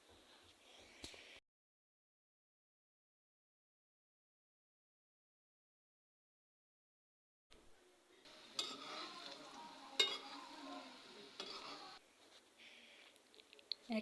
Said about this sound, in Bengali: ডুবো তেলে ভাজলে এই বড়াগুলো মুচমুচে হয়